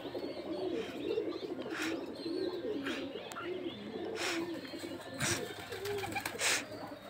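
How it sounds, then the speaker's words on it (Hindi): Pigeons coo repeatedly at a rooftop loft in the evening, soft rolling calls close by with occasional chirps and light outdoor background noise. "कबूतर जो लॉफ्ट के अंदर जाने लगे वापस से"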